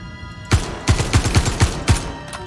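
Rapid bursts of gunfire from the Star Citizen video game during a Vanduul boarding fight, about six loud, punchy shots spaced unevenly across a couple of seconds, close and with no talking over them.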